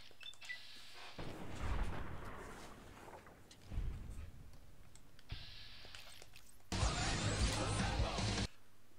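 Hunting rifle gunfire in the video game Fallout New Vegas: a few heavy booming shots with rumbling tails, interleaved with game ambience and a sharp burst near the end.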